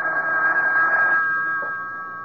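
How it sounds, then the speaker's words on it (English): A telephone rings with a loud, sustained electronic bell tone that fades out near the end, heard alone without talk. "A couple of hours later, the phone rang."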